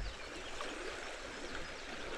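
The Tug River on the West Virginia–Kentucky border flowing past the bank, a steady, even rush of running water close by with no voices.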